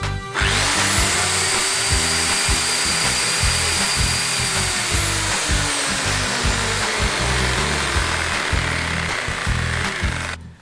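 An electric chainsaw, chain and bar removed and freshly filled with chain oil, runs continuously close by for about ten seconds, a loud steady motor whine with brief dips in pitch partway through.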